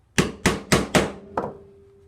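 Four sharp hammer strikes drive stitching chisels into leather in an even rhythm, followed by a fifth lighter tap with a short ringing tail, close and clear, with no talk.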